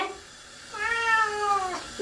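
A single drawn-out cat meow rises and falls over about a second, close by, over faint background hiss.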